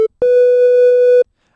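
A steady FM synth tone from Sytrus, mixing operators 1 and 6, sounds as a bright, buzzy sustained note of about one second after a brief clipped blip, ending abruptly.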